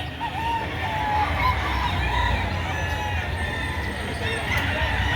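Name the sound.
chickens at market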